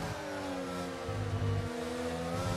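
Race car engine in a Formula-style racing video game, a steady loud revving drone with rising harmonic tones, alone without talk.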